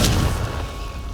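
A Confringo fire-blast spell in the video game Hogwarts Legacy lands as a single short booming explosion, loud at first and quickly fading into a low rumbling tail, with no talk.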